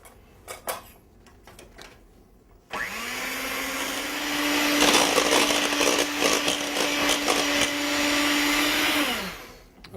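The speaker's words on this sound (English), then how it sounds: "I'm just going to put the heavy cream in a bowl and whisk it until it's fairly stiff" An electric mixer whisks heavy cream in a bowl, starting abruptly with a steady motor whine and beater rattle that grows louder, runs for several seconds, then winds down, after a few faint clicks.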